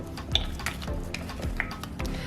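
Sweet potato chips are tossed and stirred with extra virgin olive oil in a bowl, giving soft, wet, irregular clinks and squishy rustles close by, with no talk.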